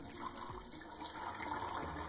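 Fresh water gushes into a brewing pan to rinse it out while making an all-grain stout, a steady, fairly quiet rushing pour with no one speaking.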